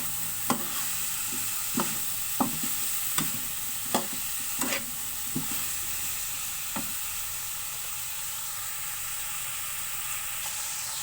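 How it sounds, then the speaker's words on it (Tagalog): String beans being stirred in a frying pan while cooking pakbet, a steady sizzle and hiss with a series of sharp scraping and clinking strokes spaced irregularly through the first half, then quieter frying alone. "Haluin ko naman po yan para po mag-isa ang sitaw,"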